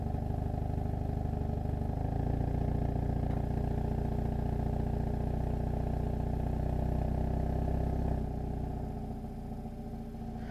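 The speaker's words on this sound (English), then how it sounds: "Let me go ahead and rev it with the normal." A 2025 Hyundai Elantra N running on its normal exhaust setting gives a steady, loud engine drone with low rumble and some clatter, easing off slightly near the end; no distinct rev spikes stand out.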